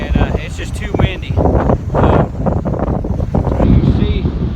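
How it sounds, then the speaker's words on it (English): Gale force wind buffets a microphone at a lake shore, heavy roaring gusts rising and falling continuously, while someone talks over it close to the mic. "It's getting way too windy to do anything out here."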